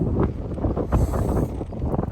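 Cold wind on the Phu Luang mountain sky road buffets the microphone in a constant low roar with gusty surges, heard alone and close.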